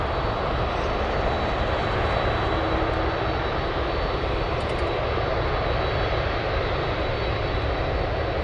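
A fully loaded MD-11 cargo jet races down the runway on its takeoff roll at Anchorage airport, a steady, loud, broad engine roar with a faint high whine that holds level throughout, with no voices.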